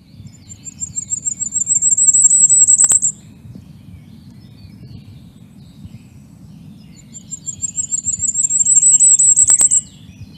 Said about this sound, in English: So I'll just play firecrest.